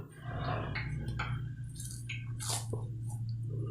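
Wheat flour dough mixed with ghee is kneaded by hand, giving soft, wet squishes and sticky presses at an uneven rhythm. The sounds are close but quiet over a low background hum.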